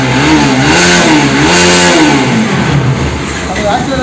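Motorcycle engine after a carburettor refit, revving up and down in smooth rising and falling sweeps, loud and close, before settling back toward idle.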